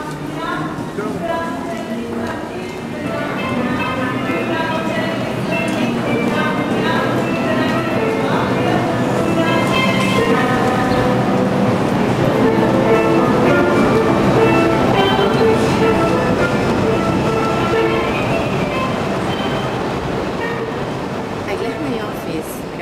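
Subway train running through an underground tunnel, a loud continuous rumble and clatter swelling and fading with steady rhythmic rail clacks, while a voice talks over it throughout.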